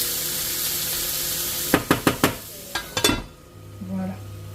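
Food sizzles in a pan with a steady hiss, broken by a quick run of sharp utensil clacks against the pan, after which the sizzle quickly dies away to near quiet.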